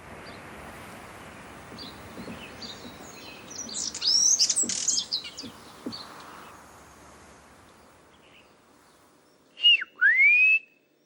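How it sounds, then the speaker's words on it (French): Small forest birds on Réunion Island chirp and whistle in a quiet tropical forest, a few bright scattered calls in the middle and a loud clear whistled phrase near the end, with no voices. "Les petits oiseaux forestiers font partie des premiers habitants de la Réunion."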